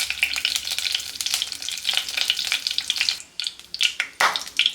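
Cumin and mustard seeds crackle and sizzle in hot oil in a pan on the stove, a close, busy frying hiss with sharp popping bursts that ease briefly near the end before flaring again.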